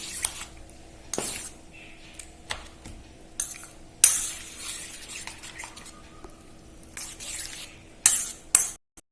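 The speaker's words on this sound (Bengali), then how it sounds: "সব উপকরণ দিয়ে মিশ্রণটা এবার ভালো করে মেশানো হচ্ছে।" A utensil stirs and scrapes egg pakoda batter with ginger paste in a bowl, giving intermittent clinks and soft mixing sounds, close and fairly quiet.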